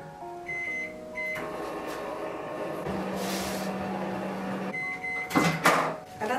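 Microwave oven running while melting butter in a Pyrex glass measuring cup, a steady hum with a low tone appearing midway, then a closing door clatter and beep near the end.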